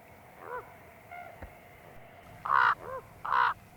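A raven in Yellowstone National Park gives two loud, hoarse caws close by, preceded by fainter croaks over a quiet outdoor background.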